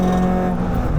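A K24-swapped EP3 Honda Civic Type R engine on the Nürburgring drones loudly and close, with a strong steady tone and a short shift in pitch through the downshift.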